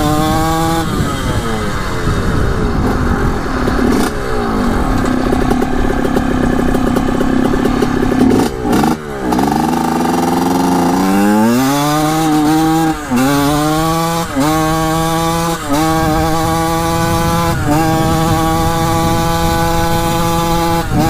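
A Suzuki RM 125 two-stroke dirt bike, revived after 15 years with a suspected crank seal fault, buzzes loudly and continuously while ridden, its engine note rising and falling through repeated throttle blips and upshifts.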